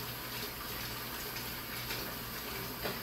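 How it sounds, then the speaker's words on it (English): Steady tap water runs into a kitchen sink as meat is rinsed, a continuous faint hiss with no talking. "Let me rinse the meat real quick"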